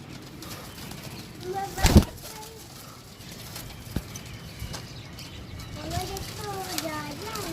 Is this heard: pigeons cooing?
yes